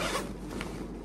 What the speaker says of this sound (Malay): Okay, so kita buka zip.